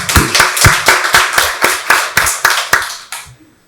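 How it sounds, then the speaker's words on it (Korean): A Korean church congregation at Sunday worship claps in unison to give glory to God: about a dozen sharp, evenly spaced claps in a steady rhythm, close and loud, ending abruptly into silence. "박수로 하나님께 영광 돌리겠습니다"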